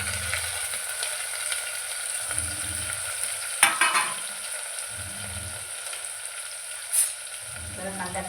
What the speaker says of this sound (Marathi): जरा कांदा टोमॅटो हलवून घेते.